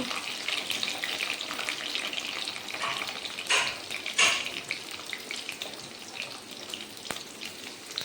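Onion and tomato fry in a hot pan, with a dense continuous sizzle and crackle throughout and a few louder bursts of spitting as pieces are added and moved.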